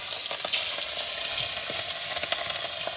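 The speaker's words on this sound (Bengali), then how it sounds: "এখন কিন্তু মাছ ভাজার জন্য চলে গেছে ইলিশ মাছ।" Hilsa fish frying in hot oil, a loud, busy sizzle with scattered pops and spatters throughout, no talking.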